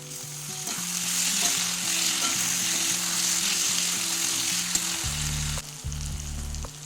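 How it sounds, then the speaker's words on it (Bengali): Spice mix with turmeric and salt, plus tomato, frying in a pan for bottle gourd with fish head: a continuous, even sizzle over a low, steady hum, with no one talking. "মশলাটা একটু ভেজে নেব টমেটোটাও এই সময় দিয়ে দেবো"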